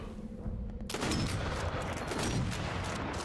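Gunfire in the video game Sniper Elite V2 Remastered breaks out after a quieter stretch, becoming a dense, continuous crackling volley of shots that holds at a steady level, with no talking.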